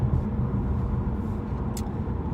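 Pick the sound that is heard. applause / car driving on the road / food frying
car driving on the road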